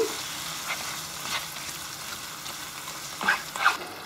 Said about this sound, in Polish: A zatem dodaję śmietanę Wszystko przemieszam.